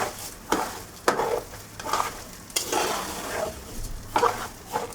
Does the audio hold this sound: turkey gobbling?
no